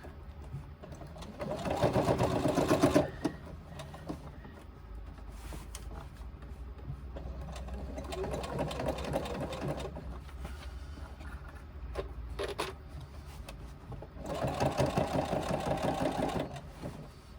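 A domestic sewing machine stitches around the curves of a bulky crossbody bag seam at the gusset, running in several bursts of steady mechanical whirring separated by quieter pauses, close and alone.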